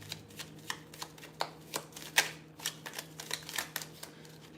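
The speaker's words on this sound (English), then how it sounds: "You see me shuffling too." Tarot cards are shuffled by hand in a quiet room, a rapid series of soft, crisp riffles and taps in irregular bursts, close to the listener and without speech.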